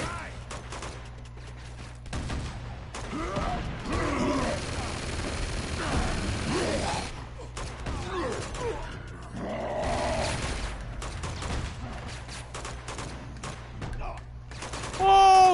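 Gunfire in the video game Uncharted 2, repeated bursts and shots scattered throughout at moderate loudness, mixed with game effects while players talk over it.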